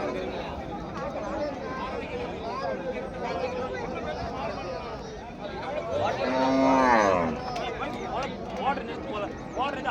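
Cattle low amid a busy livestock market in Erode, with a prominent drawn-out moo near the middle rising over a steady hubbub of voices and crowd chatter.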